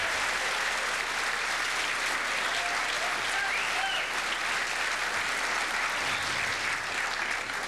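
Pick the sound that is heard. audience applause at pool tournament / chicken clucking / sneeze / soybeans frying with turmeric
audience applause at pool tournament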